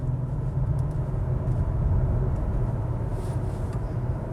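A 2021 Acura TLX Type S in Sport Plus mode taking a corner, a steady low engine and road rumble heard from inside the cabin, continuous and fairly loud with no talk.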